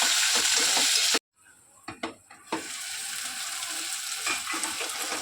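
Tomatoes and onions frying in a pan for village-style egg curry: a loud, steady hiss cut off briefly, then a few clattering stirs before the sizzle resumes.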